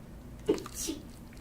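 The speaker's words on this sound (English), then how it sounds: "I am sneezing." A single quick sneeze, fairly soft and close, with a short breathy burst and a brief hiss trailing after it.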